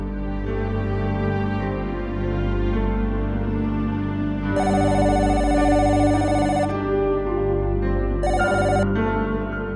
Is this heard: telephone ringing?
yes